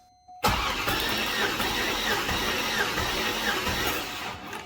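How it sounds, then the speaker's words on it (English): A Chevrolet C5 Corvette engine cranks steadily over the starter without firing, a loud continuous churning whir that begins abruptly after a brief silence and holds for several seconds. "you can crank over the C5's engine without starting it should the need arise"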